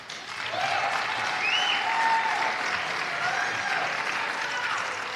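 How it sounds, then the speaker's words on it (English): A crowd at an Ohio State Treasurer candidate forum applauds steadily, a full even wash of clapping that swells and holds, with a few faint voices and whoops mixed in. "Applaud, if you will, now."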